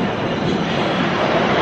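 Subway train rumbling through a station while riders wait on the platform, a dense, steady roar that holds at an even, close loudness throughout.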